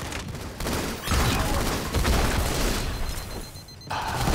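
A grenade goes off during a Team Doubles Oddball match on Checkmate in Halo 2 Anniversary, with dense blasts and gunfire bursts filling the mix loudly and continuously.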